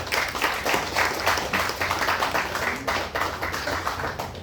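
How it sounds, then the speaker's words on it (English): An audience at the Miss South Pacific pageant reception at Friendship Park, Matagialalua, Apia, Samoa, claps in steady, dense applause that holds fairly loud throughout. "Can we have a round of applause?"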